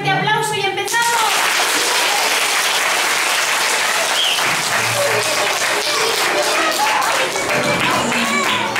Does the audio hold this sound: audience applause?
yes